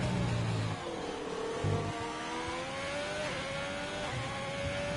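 Ferrari Formula 1 car in a racing video game on a qualifying time lap at Austria, engine rising and falling in pitch through gear changes, loud and continuous with a steady whine throughout.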